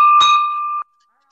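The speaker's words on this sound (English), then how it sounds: "So here's a bell ringer for you." A bell rung once, a bright ringing strike that sustains briefly and then cuts off abruptly, loud and close with no voices.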